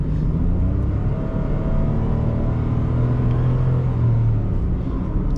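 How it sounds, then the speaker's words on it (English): A Mitsubishi Mirage's small engine drones and strains under acceleration toward 100, a steady loud rumble with a slowly rising pitch and no voices. "the car is straining itself. You can hear the engine, you can hear everything."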